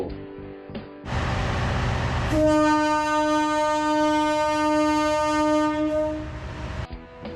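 A KIHA 183 diesel tourist train leaves Hua Lamphong station, sounding a loud sustained horn for several seconds over heavy rumbling engine noise and rail clatter, close by.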